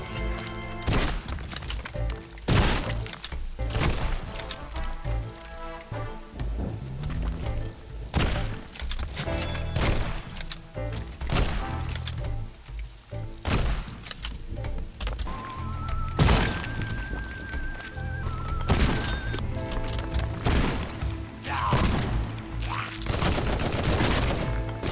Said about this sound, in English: Predator. 50 shots of high-caliber goodness.